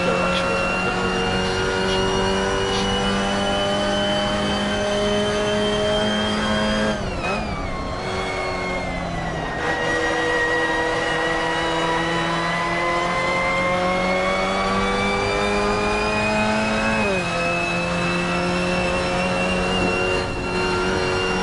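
An MX5 Cup race car engine in the Assetto Corsa racing game, on the Black Cat County Short track, revs hard and steady, with pitch drops at two gear shifts, loud and continuous throughout.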